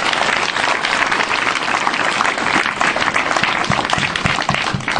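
A church congregation breaks into sustained applause, a dense, loud wash of many hands clapping continuously throughout without pause.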